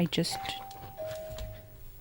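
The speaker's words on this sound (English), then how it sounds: "someone rang our doorbell, so I had to answer the door" A doorbell chimes clearly with a sustained ringing tone, heard indoors at moderate volume.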